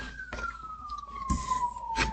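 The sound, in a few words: sirens passing by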